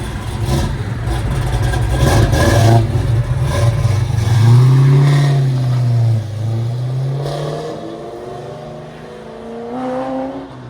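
A 1969 Yenko Camaro with a 427 V8, headers and Flowmaster 40 Series exhaust is revved up and eased back down, a loud, deep, rumbling exhaust note rising and falling in pitch over several blips, heard alone.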